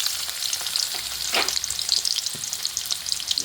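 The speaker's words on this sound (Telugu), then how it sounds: "కొంచెము ఫ్రై అవుతామండి ఆనియన్స్ ఇది కొంచెం బ్రౌన్ కలర్ అయితే రావాలి" Chopped onions frying in a pan as the base for an Andhra village-style chicken, brinjal and green chilli curry, a close, continuous crackling sizzle with occasional stirring scrapes and no talking.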